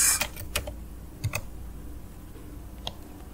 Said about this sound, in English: after that we have to type in name of that file